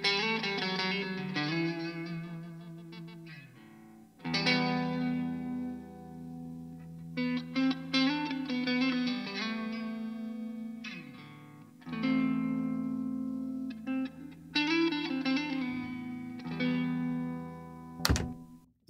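Electric guitar through a Tonex with a room reverb effect: chords and picked notes ring out with a roomy reverb tail, phrases separated by brief pauses, ending with a sharp click.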